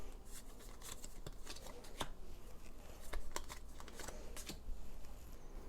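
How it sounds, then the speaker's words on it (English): Playing cards from the board game Oath being drawn off a deck and dealt onto discard piles on a table: soft, quick papery slides and taps in irregular bursts, close and faint. "take 3 cards from the bottom, and of these 3 cards, you're going to put 1 in each discard pile"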